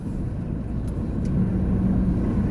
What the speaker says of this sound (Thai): อุ้ยรถติดเป็นติดทุกคน